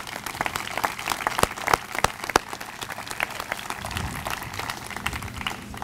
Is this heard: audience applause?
yes